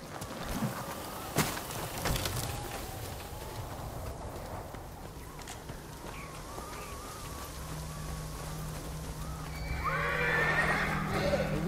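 Horses in the video game Ghost of Tsushima neigh and whinny with clip-clop hooves on the ground, set against steady rain and outdoor ambience, and the sound swells toward the end.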